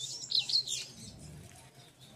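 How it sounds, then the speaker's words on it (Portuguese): Small songbirds trill and chirp clearly in the first second, then fade to faint calls over a low background hum. "Passarinho estão cantando bem."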